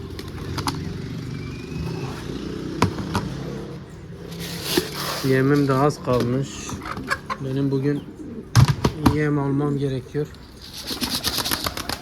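Wild pigeons coo in low, repeated throaty bursts close by, mixed with wing flaps and clicks, while a person talks over parts of it.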